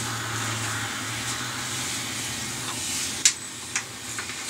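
Steady, broad hiss of a hair steamer pushing out vapor, constant and moderately loud, with a low hum early on and a few small clicks near the end.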